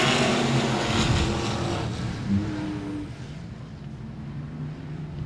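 Race cars roar off at the green flag of a race at Cotton Bowl Speedway, a loud rush of engines that gradually fades into the distance.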